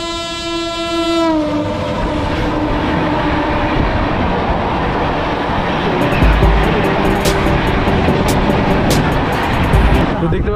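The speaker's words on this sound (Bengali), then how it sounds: "একটা থ্রু ট্রেন পাস করছে দেখতে পাচ্ছ" A through train passes a station platform at Panskura on the Howrah–Digha line in West Bengal: a long horn blast opens, then a loud continuous roar and rattle of wagons sweeping by, with sharp clicking bursts later on.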